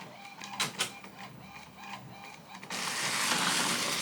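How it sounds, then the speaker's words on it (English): A sublimation printer runs nearby, with a few brief mechanical clicks followed by a steady, loud whirring hiss of the print pass that fills the second half. "since it's already printing, I don't need to go match print"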